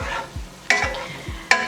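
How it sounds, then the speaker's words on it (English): A spoon stirs a sizzling pan of sauce with honey and crushed red peppers for jalapeño chicken, with a few scraping strokes and two sharp clicks against the pan's edge, close and fairly loud. "We're gonna give this a good mix."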